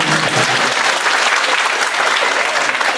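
A room full of participants at a teachers' training session claps steadily and loudly for three seconds, a continuous wash of many hands with no talking over it.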